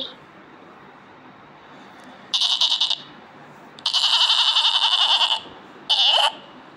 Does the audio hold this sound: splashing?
no